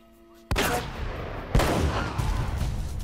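Shotgun fire in the video game Uncharted: two loud, booming blasts about a second apart, each followed by a rumbling decay, over quiet game background.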